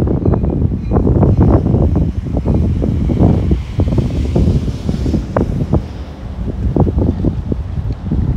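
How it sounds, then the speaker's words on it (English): Strong gusty wind roars and buffets the microphone continuously, loud and close, with a low rumble underneath. "This wind is brutal."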